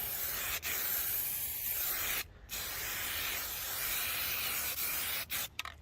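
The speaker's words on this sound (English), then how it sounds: "I ain't gonna bore y'all with 2 hours of spray bombing" Continuous hissing of a spray paint can held down in long bursts while painting a car chassis outdoors, with brief pauses between sprays and a few quick taps at the end.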